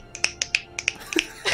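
Finger snaps ring out sharply and close, about eight quick clicks in an uneven rhythm over a quiet room, with a brief burst of rustling at the end.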